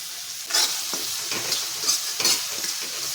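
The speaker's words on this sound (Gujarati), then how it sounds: "ટામેટા આપણે એકદમ સરસ રીતે કૂક થઈ જાય ત્યાં સુધી આપણે બધું સરસ સાતળીશું" Chopped tomatoes sautéing in a pan for mixed dal, stirred with a spoon in several distinct scraping strokes over a soft continuous sizzle, close by and without speech.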